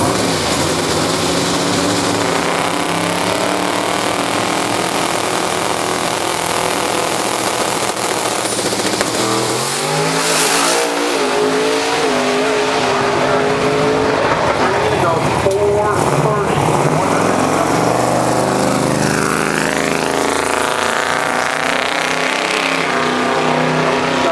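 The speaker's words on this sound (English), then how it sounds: "So they'll be racing down to the orange markers on the outside wall of the racetrack at 8 miles. And accelerate." Drag racing cars accelerate hard down a racetrack at Grand Bend Motorplex, a loud continuous engine roar rising in pitch with a crowd and announcer voices mixed in throughout.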